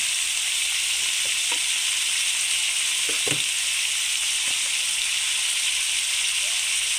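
Drumsticks (sajna) fry in a pan with a steady, loud sizzle and hiss, while a few soft clicks of stirring and mixing break through the frying as a Bengali sajna chochori with mashed fish head is cooked.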